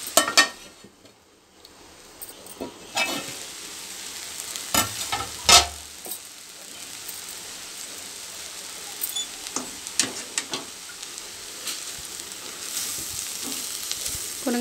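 Ponnaganti greens and chana dal frying in a pan, a soft steady sizzle with occasional stirring scrapes and clinks of a utensil against the pan, fairly close and moderately quiet throughout.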